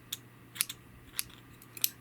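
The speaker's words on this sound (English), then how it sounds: "I'm going to cut my yarn" Dull scissors cutting yarn during crochet work, several sharp snipping clicks in quick irregular clusters, close and clear against a quiet background.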